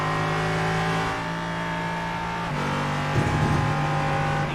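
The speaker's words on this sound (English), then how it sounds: "it runs a Nissan V8 VK56 engine" A Ligier LMP3 race car with a Nissan VK56 V8 engine drones at high revs in a racing game at Road Atlanta, shifting pitch with a gear change and a brief rough burst, continuous and close with no talk.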